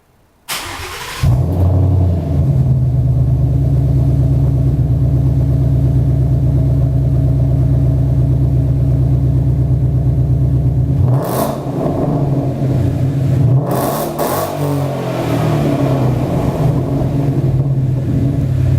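A Ford Mustang S550 fitted with an SVE 2.5-inch exhaust starts up and settles into a loud, steady idle with a deep, continuous rumble, then gets a couple of brief revs near the end.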